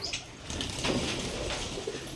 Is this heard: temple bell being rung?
no